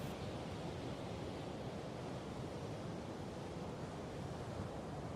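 Steady broadband wash of ocean surf at the seaside, a continuous close roar of breaking waves with no distinct pauses and no voices.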